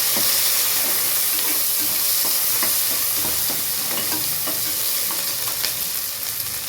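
Onions fry in hot oil for a brinjal tamarind curry, giving a loud, steady, close sizzle throughout, with light spatula stirs and scrapes tapping in at intervals.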